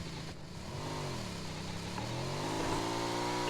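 A motorbike engine revs steadily, its pitch gliding up and down with throttle changes and rising gradually over a few seconds, moderately close and heard alone without speech.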